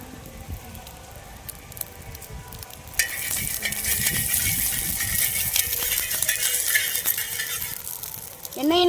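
An egg drops into hot oil after a few seconds of quiet clinking, bursting into a loud steady sizzle that continues with light spatter, and a short vocal sound appears at the very end.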